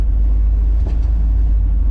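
A car engine idles while warming up, a loud, steady low rumble held close and continuous throughout, with a brief faint higher rattle in the middle.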